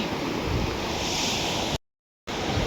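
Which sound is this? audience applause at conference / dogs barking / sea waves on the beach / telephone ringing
sea waves on the beach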